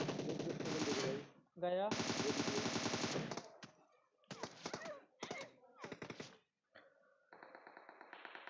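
Rapid automatic gunfire in the PUBG video game comes in long loud bursts and short clipped volleys with brief gaps, while players talk over it.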